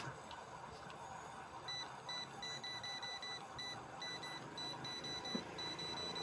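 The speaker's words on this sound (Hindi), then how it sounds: "बीप इसमें आ रही है" A DC fan circuit board powered at 12 volts gives off repeated thin electronic beeps in short bursts, steady but faint against a constant background hiss.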